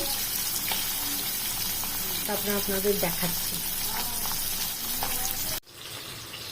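Rui fish sizzle and crackle steadily in hot oil over a raised flame, a continuous close frying hiss. Someone talks over it for most of the clip, and the sound cuts off sharply near the end.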